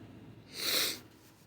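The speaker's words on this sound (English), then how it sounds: "my allergies are still really bad, so I'm going to probably be sniffling a lot throughout the rest of this video" A single loud sniffle from someone with bad allergies, a brief airy burst swelling and fading near the microphone, with no talking.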